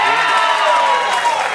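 Crowd cheering and clapping for a rugby league player, a dense, loud, continuous roar of whoops and applause close by.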